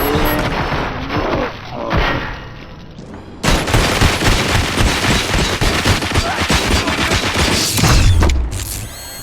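Gunfire fills a fight in the Robocop Rogue City video game, with dense, loud volleys of shots and mechanical clatter that grow heavier after a sudden jump in intensity partway through.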